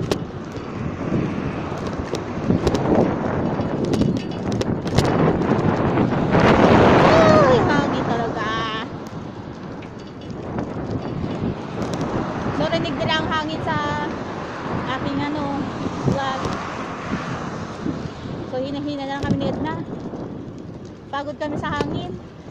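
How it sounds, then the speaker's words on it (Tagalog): Strong wind buffets the microphone during a bike ride, producing a heavy, surging low roar that swells and eases, while people talk over it. "Pagod kami sa hangin."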